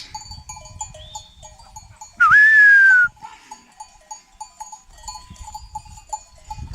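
A single drawn-out bleat from a sheep on a steep mountain pasture rises clear for under a second, while soft clanking bells from the grazing flock ring on and off before and after.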